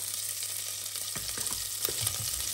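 Bacon sizzles and fries in a pan as it begins to render, a steady crackling hiss with a few sharper pops and stirring sounds close by, with no talking.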